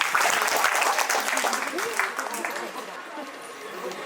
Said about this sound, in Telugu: దావీదుని బట్టి మనందరం చప్పట్లు కొడుతూ సంతోషిద్దాం.